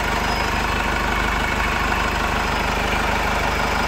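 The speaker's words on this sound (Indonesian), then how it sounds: "Kita biarkan dulu nyala idle. Nah, nanti setelah solarnya pressure, mesinnya akan terdengar semakin rata." A Chevrolet Captiva FL turbo-diesel idles with a rough, smoky engine, giving a steady, loud mechanical rumble with an even low throb throughout and no talking.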